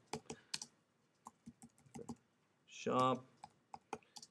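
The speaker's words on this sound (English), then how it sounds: "I'm just going to type in whatever title you want." Typing on a computer keyboard comes in several quick bursts of close clicks separated by short pauses.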